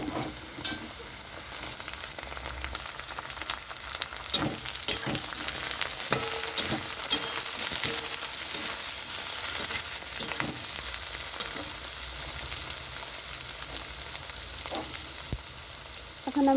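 Eggplant and potato fry together in a pan, giving a steady crackling sizzle broken by repeated scraping stirs and utensil knocks over several seconds, with no talk.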